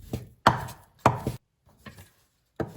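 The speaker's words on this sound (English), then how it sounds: "Now cut this really fine." A knife chops bacon finely on a board in a few sharp, separate strokes with short silences between them, loud and close, no talking.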